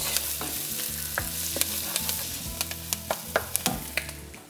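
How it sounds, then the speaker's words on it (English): Garlic fries in hot oil in a pan, giving a steady bright sizzle, with low scraping stirs and sharp crackling pops that grow more frequent toward the end. "I'm just going to cook that garlic just about 2 minutes just to get fragrant"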